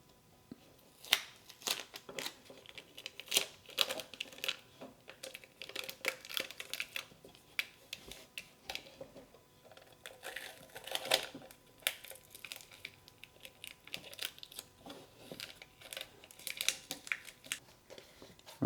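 Tuck Tape is pulled and pressed down onto a slip casting mold, giving a series of quiet irregular ripping, crinkling and tapping sounds, close and fairly faint, with no talking.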